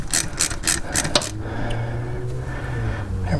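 A wrench clicks and ratchets in a quick burst of strokes while a brake line banjo bolt on a 2005 Buick LeSabre is unscrewed, then the work quiets to a low hum.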